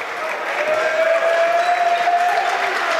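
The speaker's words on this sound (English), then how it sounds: "Now the crowd comes to life" A crowd at a men's college basketball game, Penn State Altoona against Penn State Behrend, roars steadily throughout, with a sustained wash of cheering and applause and a faint whistle-like tone running through the noise.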